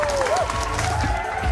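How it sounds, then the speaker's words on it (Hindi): A crowd applauding a contest winner at a food product launch event, dense steady clapping filling the whole short span, with a voice over the applause. "जोरदार तालियां मिस्टर नूर अहमद के लिए"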